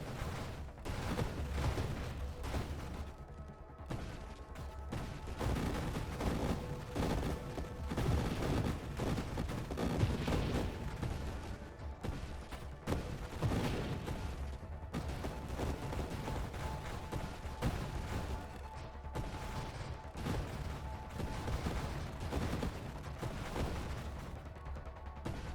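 Dense, continuous rumbling blasts and crackling detonations from antimatter rounds in a space combat video game, heavy overlapping explosions rolling without pause at a steady loud level.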